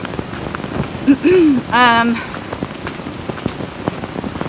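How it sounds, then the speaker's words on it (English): Moderate rain falls steadily around a solo backpacker on the Appalachian Trail in the Great Smoky Mountains, a continuous hiss of drops, with a bird's call briefly rising over it partway through. "it's not raining like super hard, which is great, but still it's raining"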